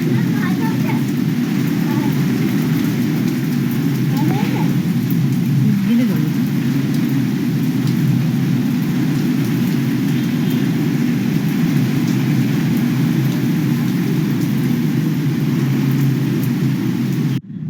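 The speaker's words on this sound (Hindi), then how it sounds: "ये देखिए झमाझम बारिश" Heavy rain pours down in a constant, loud, roaring wash that holds steady throughout without a break.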